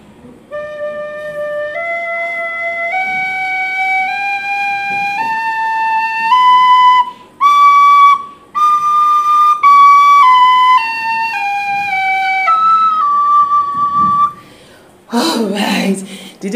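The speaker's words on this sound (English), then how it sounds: "The next one I have here is the tea whistle" Tea whistle played as a musical instrument, a clear piping tone stepping up in pitch then back down in a slow scale, followed by a short breathy burst at the end.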